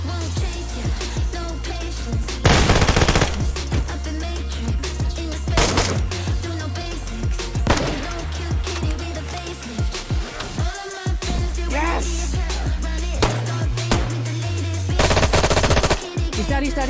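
Gunfire at a firing range in the video game DayZ: loud, close bursts of rapid automatic fire alternate with single sharp shots, repeated throughout with brief pauses between volleys.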